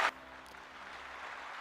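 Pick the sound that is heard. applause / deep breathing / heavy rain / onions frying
applause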